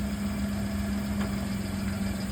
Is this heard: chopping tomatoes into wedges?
no